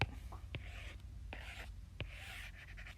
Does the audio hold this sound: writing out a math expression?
yes